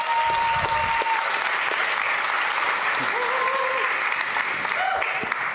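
An audience at a municipal election debate in Amsterdam gives a warm, steady round of clapping, evenly loud throughout with a few brief whistles or tones rising above it.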